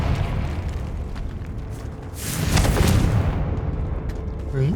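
Confringo fire spell exploding in Hogwarts Legacy, a loud burst that swells into a rumbling blast over a steady game background of ambient noise and music.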